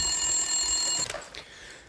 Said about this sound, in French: Je crois qu'il y a le téléphone qui sonne.